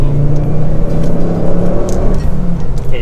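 A Ford Focus ST with a 2.5 turbo engine and six-speed manual gearbox accelerating hard through a quick upshift, its loud engine drone rising and dipping up close.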